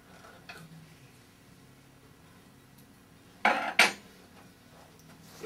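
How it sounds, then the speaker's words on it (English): A 9/16 nut is tightened on top of the shaft of a Model 150/200 vibratory motor: two sharp, close metallic clanks in quick succession ring out over a quiet background, and a fainter tap follows later. "Tighten 9/16 nut on top of shaft"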